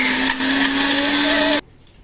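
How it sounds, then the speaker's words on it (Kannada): An electric mixer grinder whirs loudly and steadily, grinding dry-roasted gongura chutney ingredients with tamarind for an Andhra-style chutney powder, then cuts off abruptly near the end. "ಈಗ ಇಲ್ಲಿ ಮಿಕ್ಸಿ ಮಾಡ್ಕೊಂಡಿದ್ದಾಗಿದೆ"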